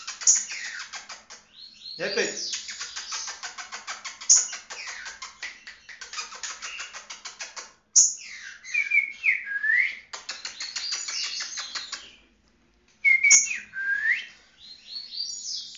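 A caged green-winged saltator sings loud, clear whistled phrases close by. Short pauses break up the song, and someone speaks briefly over it.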